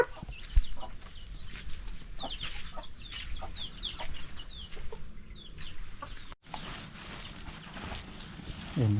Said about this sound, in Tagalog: Tulog na yung mga manok.